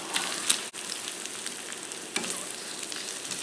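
Two lightly beaten eggs with pepper sizzle in a hot pan for a Spam and egg quesadilla, a soft steady frying hiss with a few scraping stirs and a brief clatter near the start, quiet and with no talking.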